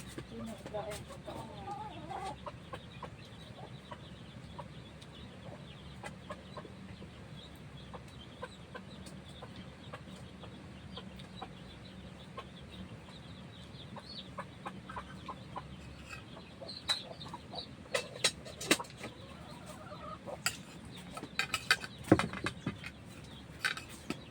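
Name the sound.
chickens clucking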